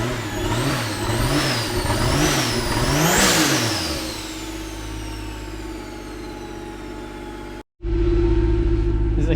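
A 2015 Ford Mustang with a swapped 2JZ engine revs repeatedly, rising and falling loudly up close, then settles into a rough steady idle, cuts out briefly, and resumes idling.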